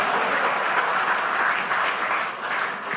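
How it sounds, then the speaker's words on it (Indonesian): A large crowd applauds in a dense, continuous roar of clapping that holds steady for three seconds, loud and close, with no other sounds over it. "Tepuk tangannya kurang."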